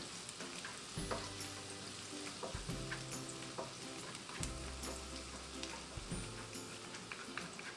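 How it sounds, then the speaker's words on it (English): Garlic sizzles and crackles steadily in a hot frying pan for fried rice, with repeated scraping stir strokes from a spatula punctuating the continuous frying hiss; no talking. "toast the garlic first until it will become a golden brown"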